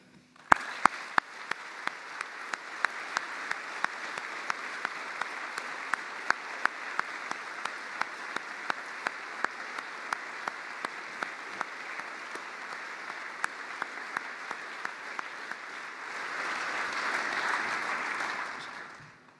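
Long sustained applause from a large audience at a food workers' union congress (Livs) honouring departing members, a dense steady wash of clapping with scattered sharper claps, swelling slightly louder near the end.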